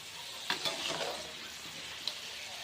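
Spices for a chutney tempering crackle softly in a pan, a quiet sizzle with a couple of sharp pops and light stirring scrapes.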